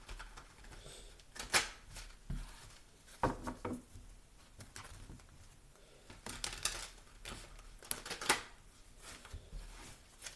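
Tarot cards shuffled and pulled from the deck, a run of soft papery riffles and flicks in bursts with quiet gaps between, close and low in level, no talking.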